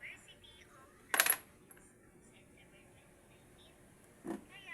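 Coins drop twice, first a bright jingling clink and later a softer, shorter one, both close against a quiet background.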